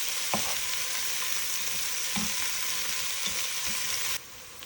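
Vegetables for chili stirred in bacon fat, a steady loud sizzle with a few scraping spoon strokes, cutting to quieter frying near the end.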